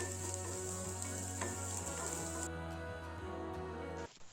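Thinly sliced carrots frying in a pan for a puffed rice upma, a steady, close sizzle that carries on evenly and then cuts off abruptly near the end.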